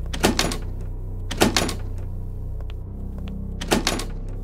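Locked doors rattled in a horror video game, three separate bursts of sharp clattering knocks at the handle, close and fairly loud, with quiet pauses in between.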